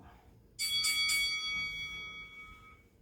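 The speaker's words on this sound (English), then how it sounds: "We'll get started here at the triple bell." A triple bell rings out sharply in a gym setting to mark the start of a HIIT workout interval, three overlapping strikes that hang and slowly fade over a quiet background.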